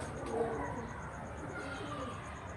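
A large, well-built pigeon coos softly in a faint, low murmur beneath a steady background hum, close but quiet, with no clear talk over it.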